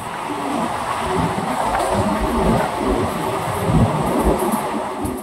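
The Sahid Express train runs at speed between Rampurhat and Howrah, a loud continuous rumble with rhythmic wheel clatter over the rails, heard close from inside the car.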